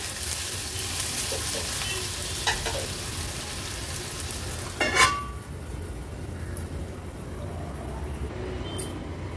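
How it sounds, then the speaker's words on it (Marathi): Chopped onion with ginger-garlic-chili paste sautés in oil over a low flame, a steady soft sizzle and hiss throughout, with a brief louder scrape or stir near the middle and no talking. "गॅसची फ्लेम लो करून हा कांदा आपण शिजवून घेणार आहोत"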